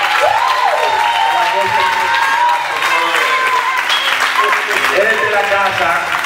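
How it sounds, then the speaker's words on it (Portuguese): Congregation applauding Pedro in a church service, with dense continuous clapping through the whole stretch and voices and music-like tones mixed in under it. "Y un aplauso a Pedro, que está aquí."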